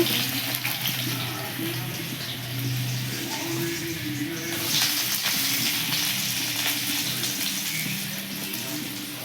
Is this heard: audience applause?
no